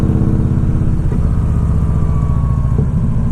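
A large 106 cubic inch motorcycle engine idles close by in a steady, loud low rumble with a mechanical clatter, and the throttle blips slightly twice.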